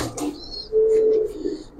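Giribaz pigeons in a loft, a soft low coo swelling in the middle amid scattered high chirps and faint rustling, quiet and near.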